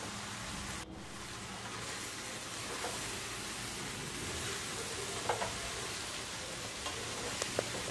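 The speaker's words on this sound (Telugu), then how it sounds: "ఇప్పుడు మనం ఉడికిచ్చి పెట్టుకున్న అన్నాన్ని దీంట్లో వేసి ఇది మొత్తం కలిసేదాకా" Vegetables sizzle and hiss in a hot pan as they are stirred together with cooked rice, sweet corn, spinach, carrot and green peas; steady, continuous frying noise, close and moderately loud, with occasional scraping clicks and no talk.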